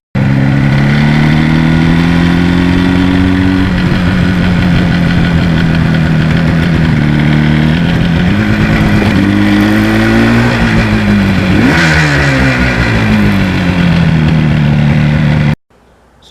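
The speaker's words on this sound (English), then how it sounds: "the harder you accelerate, the noise of the engine gets louder and it gets better" A Kawasaki H1 two-stroke motorcycle engine accelerates loudly and up close, its rising, buzzing note dropping at gear changes and then climbing again before cutting off abruptly near the end.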